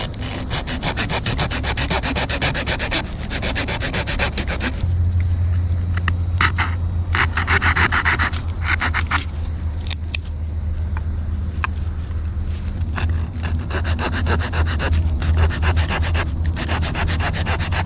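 A saw cuts pieces off a dried hardwood stick with a steady, close rasping drone of repeated back-and-forth strokes that continues without a break.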